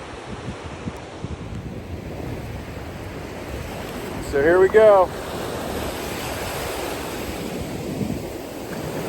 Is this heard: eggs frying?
no